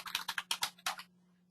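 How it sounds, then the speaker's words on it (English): Quick bursts of typing on a computer keyboard while an email is written, about a dozen close, crisp key clicks in an uneven rhythm over the first second, then quiet with a faint steady hum. "In the message body window, you can type your email."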